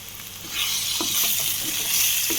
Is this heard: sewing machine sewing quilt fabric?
no